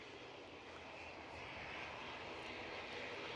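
An EasyJet airliner departs Edinburgh Airport bound for Nice, its engines roaring as a steady, broad, distant rumble that swells slightly, with no voices.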